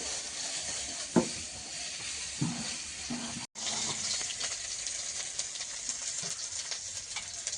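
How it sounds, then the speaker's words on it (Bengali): Spiced fish frying in hot oil, a steady close sizzle throughout with a few brief clatters of stirring and a short break midway. "আর এখন একটু মাছের মশলাটা মাখিয়ে ভেজে নিচ্ছি।"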